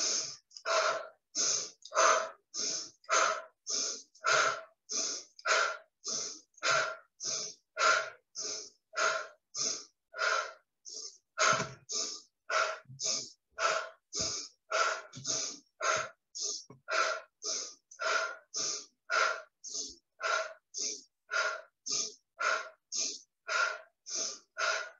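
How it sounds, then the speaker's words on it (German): Rapid rhythmic breathing during a guided breathing exercise: steady, evenly spaced breaths, about two per second, continue close and clear for the full stretch with no talking. "wir fangen jetzt mit dem schnelleren Atmen an"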